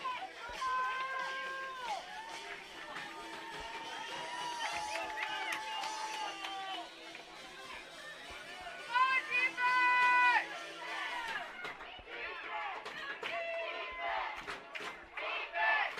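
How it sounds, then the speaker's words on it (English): Crowd at a boys lacrosse semi-final roaring and cheering, a sustained mass of shouts and high yells that swells and stays loud throughout, with announcer speech over it. "Crowd rocking and rolling."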